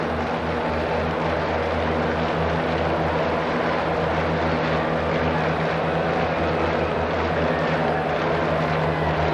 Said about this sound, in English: Now 2 of these little airplanes appear to be having a dogfight over there.